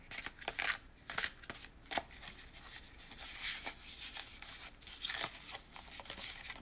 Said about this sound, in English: like the cards are new, they still like need some shuffling time